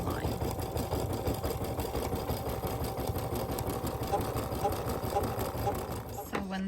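An embroidery machine stitches a jar lid placement line in a steady, rapid mechanical chatter throughout, with a faint voice briefly audible near the end.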